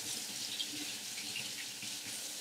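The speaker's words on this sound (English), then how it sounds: "I'm gonna rinse it out with warm water." Warm water runs from a tap while hair is being rinsed, a soft steady hiss and splash, continuous and fairly faint.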